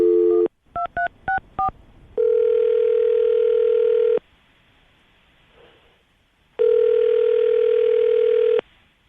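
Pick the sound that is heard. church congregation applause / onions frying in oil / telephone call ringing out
telephone call ringing out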